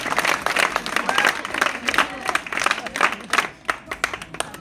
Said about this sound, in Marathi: सगळ्यांनी एकदा टाळ्या वाजवा बरं सगळे त्यांच्यासाठी